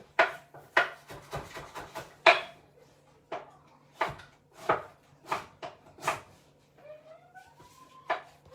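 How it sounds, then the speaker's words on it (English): A knife chops soft vegetables on a cutting board in a home kitchen, a dozen or so crisp, irregularly spaced chops heard close up with brief pauses between strokes. "I'll chop this up"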